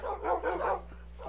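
In the Minecraft video game, a dog lets out a quick run of three or four soft yipping barks, close up, followed by a brief faint whine.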